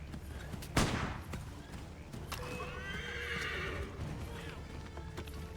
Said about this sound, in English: So I can't get off my horse, right?